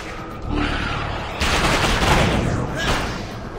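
Gunfire in the video game Spider-Man: Web of Shadows, a loud crackling rattle of rapid shots in two bursts, with voices speaking over it.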